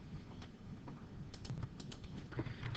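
Quiet typing on a computer keyboard, a loose run of soft, irregular key taps close by, with no talking.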